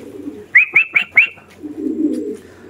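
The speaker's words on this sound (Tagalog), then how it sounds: "Nagbabaan na rin yung iba natin mga ibon galing sa loob" Racing pigeons coo in four quick, close, bright calls as they land, followed by a soft low rustle, with no talking.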